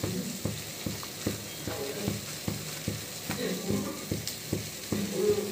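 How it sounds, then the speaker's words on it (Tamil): Mustard seeds, urad dal and cumin crackle in hot oil in a pan for onion sambar, with a steady series of sharp, close clicks and taps roughly every third of a second over a faint sizzle. "சீரகமும் கடுகும் பொரிஞ்சிருச்சு."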